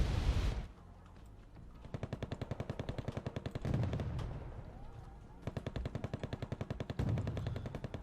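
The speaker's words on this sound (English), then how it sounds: "F-16 Fighting Falcon dropping bombs on Delta." F-16 Fighting Falcon dropping bombs in the strategy video game Wargame Red Dragon, amid rapid machine-gun bursts and distant explosions, a loud opening blast followed by repeated staccato volleys over rumbling battle noise.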